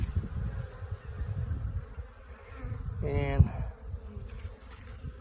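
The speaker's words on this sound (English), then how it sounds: "so there's bees active, but they're not as active as these one out here has been in pretty much full sun" Honey bees buzzing around hives in a bee yard during a winter feeding check, a soft steady hum with wind noise and one nearer buzzing pass.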